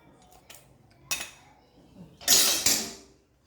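Metal kitchen vessels and utensils clink and clatter close by in a home kitchen, a few scattered knocks building to a louder, ringing crash near the end, with no talk.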